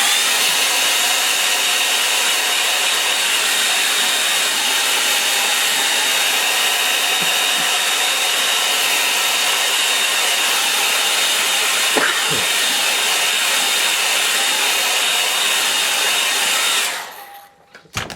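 A hair dryer drying a watercolour landscape painting: a loud, steady blowing roar runs unbroken for about seventeen seconds and then cuts off abruptly.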